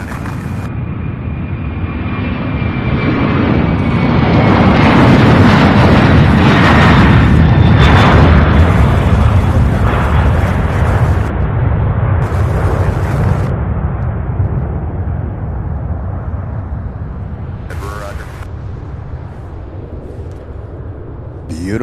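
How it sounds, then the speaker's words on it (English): A jet airliner, a 767, takes off at Louisville International Airport, its engine roar swelling to a loud, broad rumble near the middle and then slowly fading as it climbs away, with faint radio chatter at moments. "Beautiful takeoff."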